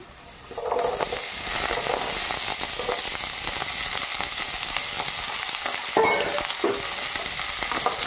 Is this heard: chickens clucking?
no